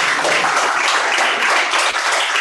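Dense, loud applause from a church congregation at a celebration service, a steady wash of many hands clapping throughout with no break.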